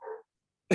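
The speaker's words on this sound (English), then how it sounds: "I'm really sorry about the dog, you guys." An indoor dog, set off by a passerby outside, gives a short bark followed by a sharper, louder bark after a brief pause, close to the microphone with no talking.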